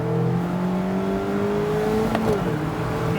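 A 2021 Mazda MX-5 RF Miata's engine revs steadily upward under hard acceleration after a downshift, a continuous loud rising drone with a brief shift-like blip near the end.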